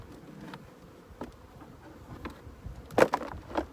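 Low, close buzzing of honeybees humming continuously after being shaken from a hive frame, with scattered louder thumps and rustles toward the end.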